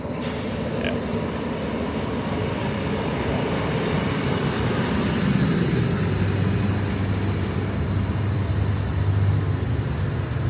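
Steady rumbling and rattling of a train in motion between Oslo city centre and the airport, heard from inside, with a faint metallic whine running through it.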